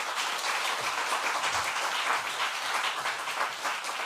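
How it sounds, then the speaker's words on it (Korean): A large audience at a Korean church lecture claps steadily and warmly, a dense, continuous wash of applause with no breaks. "우리 나오실 때 뜨겁게 박수로 다시 한번 환영하도록 하겠습니다"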